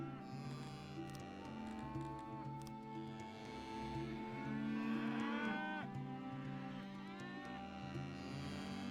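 Cattle mooing in the Songs of Syx video game, several drawn-out calls rising over a steady game music bed and ambient hum, moderately loud and continuous throughout.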